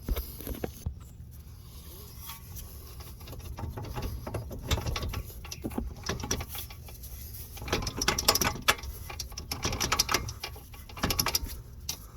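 A ratchet working on strut bolts of a 2012-2018 Nissan Altima during a front strut replacement, giving irregular bursts of rapid mechanical clicking and metallic handling, moderately close, with no talking.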